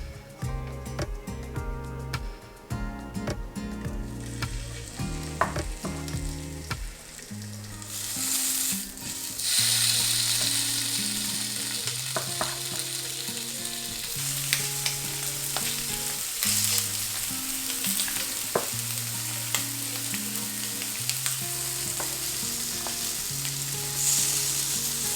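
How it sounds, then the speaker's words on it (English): Fish grilling on an IKEA grill pan gives a steady broadband sizzle through most of the stretch, rising after the first few seconds, with a musical backing underneath and no talk. "Alright, I am finally done with grilling all this fish in front of me right here."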